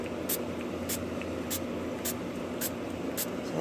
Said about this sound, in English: And I'm just gonna lightly spray.